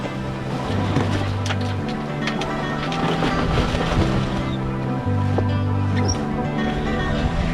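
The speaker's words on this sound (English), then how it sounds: "the waves are slopping the mainsail around as well" Ocean waves wash and slosh around a sailboat crossing the Indian Ocean under a steady wind rush, with low tonal hum and creaks close by, no clear talking.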